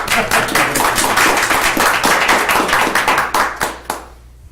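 A room of people at a county commissioners court meeting claps in dense, steady applause, loud and close, for about four seconds before tapering off into a few last claps.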